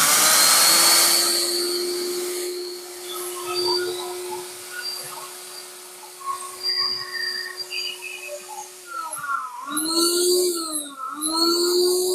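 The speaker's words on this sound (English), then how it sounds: "depending on your blender, I have a Ninja, it's pretty strong" A strong Ninja blender grinds oats into flour with a loud, steady motor whine that dips in pitch, then breaks into pulsing surges near the end as the jar is shaken.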